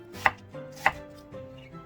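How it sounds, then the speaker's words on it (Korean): A knife cuts onion and vegetables for stir-fried squid on a board, with two sharp distinct chops and a softer third cut, close and isolated. "자, 이제 오징어 볶음에 들어갈 채소 썰어줄게요. 양파는 1개 넣을게요."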